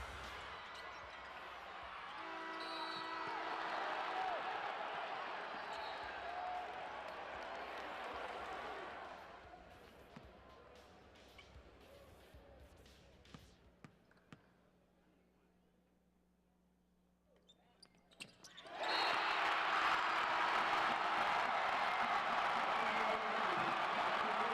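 Basketball crowd at a game against Northeastern: noisy crowd swells, falls to near silence with a few bounces and squeaks, then erupts into a loud roar of cheering.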